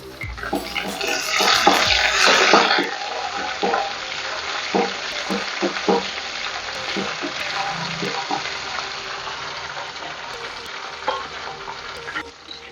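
A handful of curry leaves dropped into hot oil with sliced green chilli, a loud burst of sizzling and spattering that settles into a steady crackle, with stirring clinks close by.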